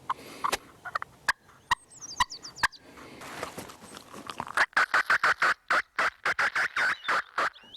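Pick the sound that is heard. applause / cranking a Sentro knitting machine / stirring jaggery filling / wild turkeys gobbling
wild turkeys gobbling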